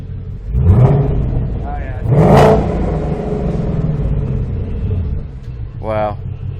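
A Ford Mustang Dark Horse fitted with an AWE SwitchPath exhaust in its loudest track mode gives two strong rumbling revs close by, then settles into a deep burble while people talk over it.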